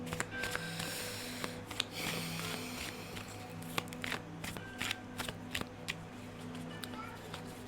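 Oracle cards being shuffled during a Celtic cross tarot-style reading, a steady run of soft papery riffles and flicks for several seconds, close and fairly quiet, with no talking.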